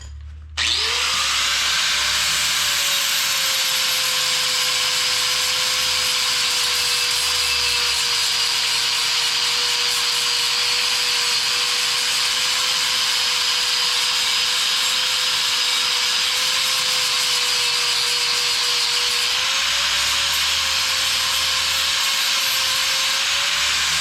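An angle grinder smoothing hammered steel edges on a mulching head push bar under repair, a steady high whine with a droning motor note running continuously and loudly, close up, with no talk.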